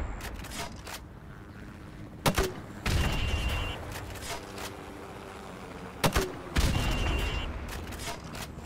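A grenade launcher fires in a video game weapons training course, aimed at windows: two sharp shots land a few seconds apart, and each is followed by a heavier blast and rumble over steady background ambience.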